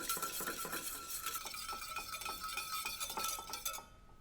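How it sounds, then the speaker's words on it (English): A whisk beats half a cup of olive oil into a mustard vinaigrette in a bowl off the heat, making quick, rhythmic metallic clinks and swishing scrapes close up, with no voices. "Half a cup of olive oil. And just whisk it in."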